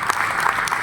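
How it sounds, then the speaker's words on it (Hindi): Children clapping together in a brief, steady burst of applause, close and fairly loud, with no talking. "तो तालियां बजाओ बच्चों"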